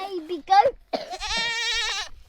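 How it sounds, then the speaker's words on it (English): Two young goats in Jamaica bleat in a long, wavering, nasal cry close by, following a brief moment of people talking. "How are you two baby goats?"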